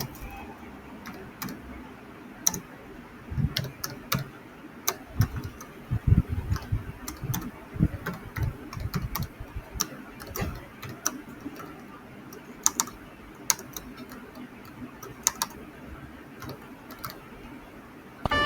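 Computer keyboard being typed on while writing C++ code, steady irregular key clicks throughout with some quieter background noise, no talking.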